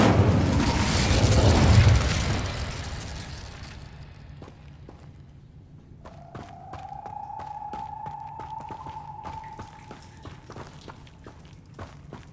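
Incendio fire spell in Hogwarts Legacy, a loud whooshing burst of flame at the start that fades over several seconds, followed by faint magical chimes and a sustained tone.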